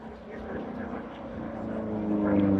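A P-47 Thunderbolt, a heavy single-engine, single-seat piston fighter, flies a display at the Duxford Battle of Britain airshow, its propeller engine droning and building steadily louder under a commentator's voice over the public address.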